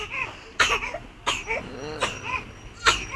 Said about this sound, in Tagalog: Tama na sa ubo-ubo.